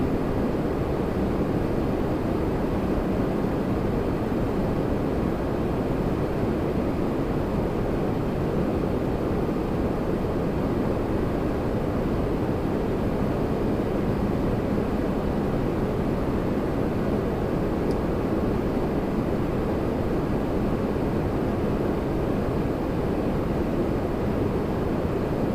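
An Air Canada Rouge airliner takes off at Toronto Pearson, a steady broad roar that holds evenly for the whole stretch with no voices over it.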